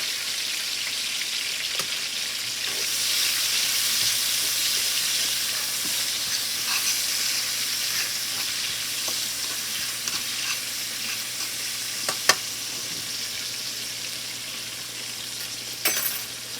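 Onions and green peppers sizzle steadily in a hot pan, a continuous close hiss with faint crackles and an occasional stir or utensil tap, without any talking.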